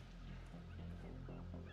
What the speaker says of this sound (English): God dang birds.